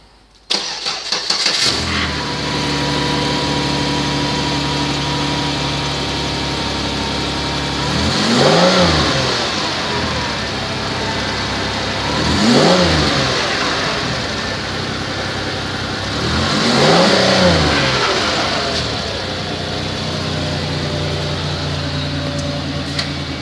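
A 2007 Chevrolet Impala engine with 78,446 miles cranks and starts, then idles steadily with three distinct revs rising and falling at even intervals, close and loud.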